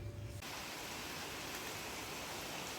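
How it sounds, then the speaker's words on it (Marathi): Steady morning rain falling outdoors, a dense, even hiss that fills the whole clip after a brief quieter start, with no speech over it. "सकाळ सकाळी पाऊस आलेला आहे"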